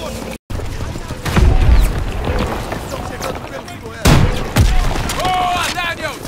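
Heavy booming blasts of gunfire and explosions in Call of Duty WWII, a rocket launcher hitting a Panzer tank, two loud impacts close together, with voices shouting over the chaotic battle noise.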